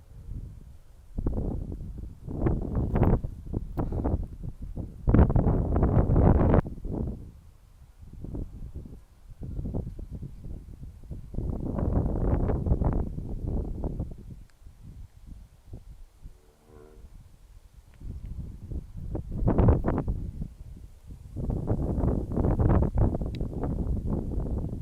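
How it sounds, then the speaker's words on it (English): Strong wind buffets the microphone of a DJI Mini 3 Pro drone flying over flat fields, coming as loud low rumbling gusts in repeated surges with brief lulls between them. "Just unfortunate that the wind is too strong."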